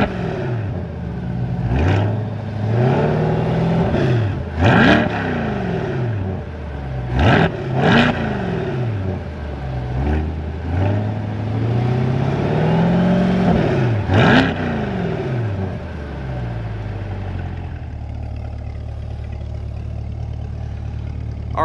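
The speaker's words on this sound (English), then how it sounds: "This car is equipped with the sport exhaust." A 2020 Chevrolet C8 Corvette Stingray 1LT coupe with its mid-mounted engine and sport exhaust blips the throttle in a string of sharp, rising revs, then drops back to a steady low idle, loud and close.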